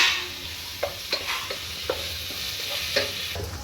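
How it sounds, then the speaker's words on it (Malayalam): Chicken fries in a pan with turmeric, giving a steady, close sizzle broken by occasional scraping taps of a stirring spoon, with no talk. "ഇപ്പം നന്നായി കാര്യമായിട്ട് ഇളക്കിക്കൊണ്ടേ ഇരിക്കുകയാണ്."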